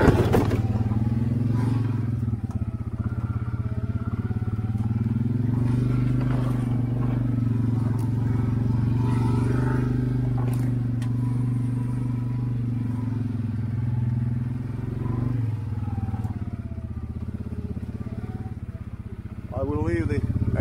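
A Yamaha ATV engine runs steadily up close for the whole stretch, a low droning hum with some clatter, while someone talks over it outdoors near a wet lakeside trail in spring.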